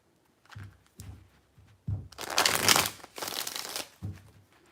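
A deck of cards is shuffled by hand in a series of crisp riffling bursts, short flicks followed by a longer loud riffle, close and alone.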